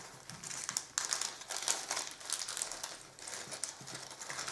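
Small plastic bags holding parts of a resin KV-5 tank model kit being handled, giving faint, close, irregular crinkling and rustling in short bursts with no talking.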